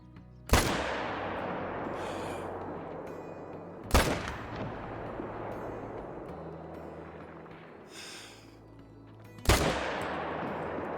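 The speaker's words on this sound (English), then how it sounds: "we shot at 3 big bucks" Three loud, sharp hunting-rifle shots ring out in the Call of the Wild video game as bucks are fired upon, each a sudden crack trailing into a long rolling echo, spaced a few seconds apart with quiet ambience between.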